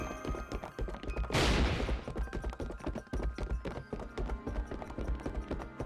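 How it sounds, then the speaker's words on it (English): A short burst of gunfire in the video game Fate/Grand Order cracks out loudly for about half a second amid a steady, rhythmic backdrop of game music, with no voices. "Those gunshots came from the opening."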